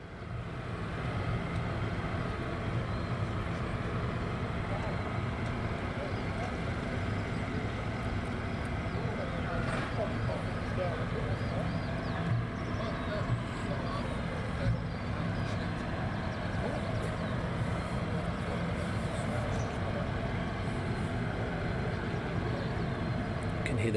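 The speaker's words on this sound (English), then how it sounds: "So the other aircraft is starting up in the background." An aircraft engine spins up in the distance at RAF Lakenheath airbase, a low, steady rumble that holds at an even level for the whole stretch.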